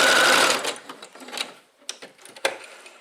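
A sewing machine runs a zigzag stitch on fabric, starting with a short loud whir at speed, then slowing into scattered mechanical clicks and clunks at close range.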